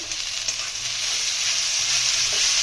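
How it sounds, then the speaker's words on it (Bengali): Leafy greens frying under a lid in a home kitchen pan, a steady loud hissing sizzle with faint low bumps underneath and no talking. "এদিকে পাতাটা ভাজা হচ্ছে, এই যে মা ঢেকে ঢেকে ভাজছে"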